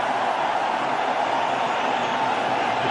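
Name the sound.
cricket stadium crowd cheering for Pakistan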